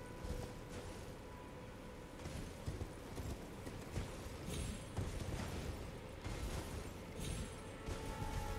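Steady clip-clop of a galloping horse in Elden Ring under a wash of ambient noise, rhythmic and continuous, fairly quiet throughout.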